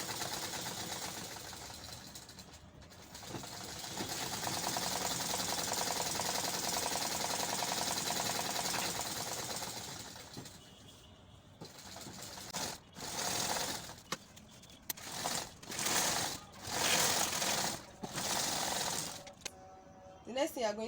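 A sewing machine stitching fabric for a simple gathered skirt on a low stitch setting runs in a long steady whir, then breaks into short separate bursts of stitching toward the end.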